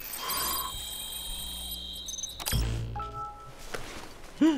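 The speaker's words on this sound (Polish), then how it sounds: "On nacisnął i jakieś powiadomienie mnie na telefon" A phone notification chime in Metal Gear Solid V: The Phantom Pain, a few bright tonal beeps standing out clearly over quiet in-game ambience, followed by a short rising tone near the end.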